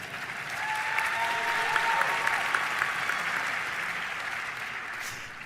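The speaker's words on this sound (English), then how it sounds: "to be joined by Deputy Mayor Lindsay Appiah, she's my boss, you can clap louder" A crowd claps in a dense, steady wash of applause at a fire and EMS awards ceremony, rising, holding, and slowly tapering off.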